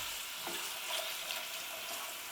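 Vegetable goulash with smoked paprika being stirred in a hot pan, a steady broadband sizzle with a few soft scraping strokes from the spoon, close and continuous with no talk.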